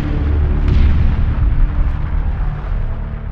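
A loud, deep rumbling blast stands in for the 1991 eruption of Mount Pinatubo, a heavy, sustained boom with crackling bursts rolling through it.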